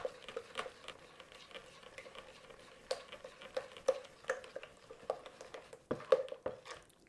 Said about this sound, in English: all we're going to do is mix this all together so everything's completely dissolved